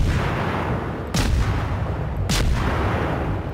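Warship main guns fire in a World of Warships battle, two heavy booming salvos about a second apart over a constant low engine and sea rumble, with no talking.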